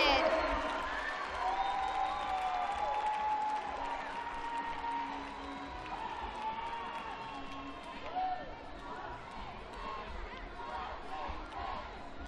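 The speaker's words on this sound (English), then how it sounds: "Crowd is excited." Spectators at a college gymnastics meet with Illinois State and Kentucky at Nebraska cheer and clap after a stuck landing, a broad, roaring crowd swell that eases slightly over time, with voices calling out and a commentator speaking over it.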